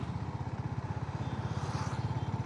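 Honda CB350RS motorcycle exhaust note while riding in the evening, a steady low thumping single-cylinder beat with rapid regular pulses, close and prominent over road noise.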